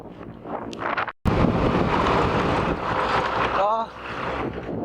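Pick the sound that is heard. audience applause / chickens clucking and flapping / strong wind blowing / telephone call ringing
strong wind blowing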